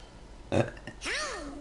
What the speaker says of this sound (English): Great burp.